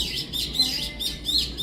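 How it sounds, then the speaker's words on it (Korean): Small birds chirp in quick high tweets, several overlapping calls repeating rapidly, close and fairly loud over faint background hiss. "새들도 권하는 것 같아요."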